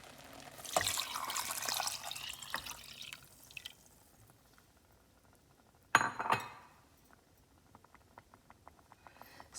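Milk poured into a pot of coconut rice pudding with saffron, cardamom and sugar, giving a soft liquid splash and trickle, then a brief clink and a second short pour, fairly quiet.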